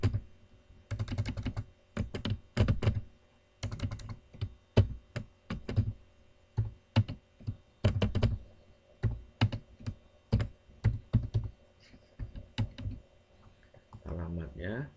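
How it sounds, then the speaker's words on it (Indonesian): Typing on a computer keyboard in quick bursts of close, crisp key clicks separated by short pauses, with a brief spoken murmur near the end. "Sudah itu kita ketik nama orangnya"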